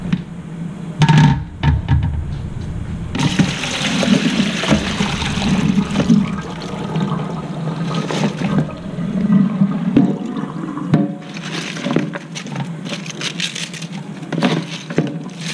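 Water pouring out of a cooking pot into a kitchen sink while cabbage is drained, a loud sustained splashing rush with clanks of the pot against the basin and brief pauses.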